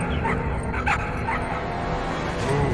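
Small dogs in the video game Trover Saves the Universe bark and whimper, a few high yips and whines over a steady low game background hum.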